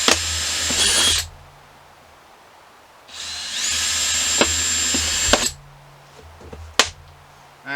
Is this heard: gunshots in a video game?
no